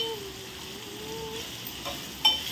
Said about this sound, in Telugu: మసాలా, ఉల్లిపాయ ముక్కలు, పచ్చిమిరకాయ ముక్కలు, వంకాయ ముక్కలు వేగుతూ ఉన్నాయి